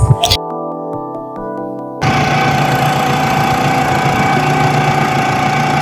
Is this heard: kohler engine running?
yes